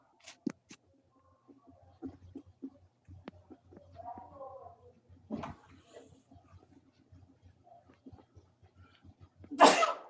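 A sharp, loud sneeze bursts out near the end, after a stretch of quiet shuffling and a few soft vocal sounds.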